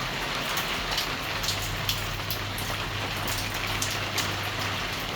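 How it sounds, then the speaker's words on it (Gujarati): Steady rain falls in Surat, a dense continuous patter of drops on surfaces with no break and no voices. "માહોલ એકદમ થઈ ગયો છે વરસાદવાળો"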